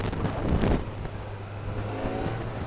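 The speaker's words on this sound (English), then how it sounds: "It's got a ton of torque, but you can feel it's a 4-cylinder. It's very smooth." A Kawasaki Z900 four-cylinder motorcycle revs up with a short rising, smooth engine surge early on, then settles to a steady hum close by.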